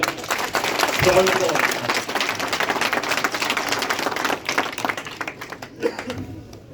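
An audience at a BJP political gathering claps in a sustained burst of sharp, scattered hand claps, tapering unevenly toward the end while a voice talks over it.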